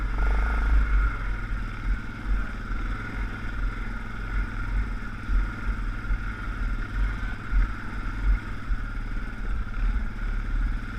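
A 4x4 crawling over rough, rocky terrain in low-gear four-wheel drive on a light, steady throttle, its engine a low, even rumble mixed with intermittent clunks and rattles from the rocks, with no talking.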